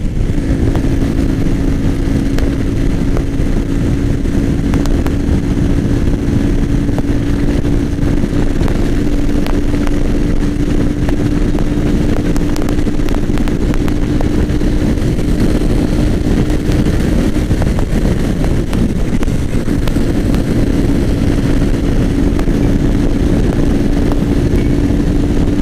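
A Yamaha Fazer 250 ABS motorcycle engine roaring steadily while riding, its pitch slowly rising, loud and close with heavy wind rush throughout.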